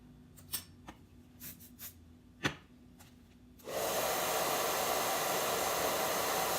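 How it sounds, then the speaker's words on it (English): A few soft handling taps and rustles, then a hair dryer switches on with a loud, steady blowing roar that continues to the end. "And I'm gonna set it with the blow dryer."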